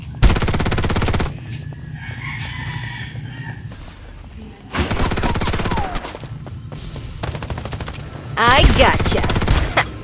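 Gunfire in the mobile battle game Farlight 84: loud bursts of rapid automatic fire in three long stretches, broken by quieter gaps with game sounds and a brief spoken line.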